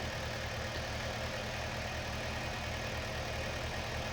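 Tractor engine idling in a realistic farming video game, a steady low rumble with a faint knocking texture, continuous and even throughout with no talking.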